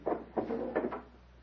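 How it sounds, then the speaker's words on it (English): A wooden door to a private chamber in a radio drama creaks and clunks open in three quick close bursts, with no voices over it. "quickly crosses the little anteroom to open the door to his private chamber"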